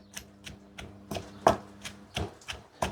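Chili paste pounded in a mortar for Thai nam prik, giving about nine sharp, evenly spaced thuds at a steady rhythm, close and moderately loud with no talk.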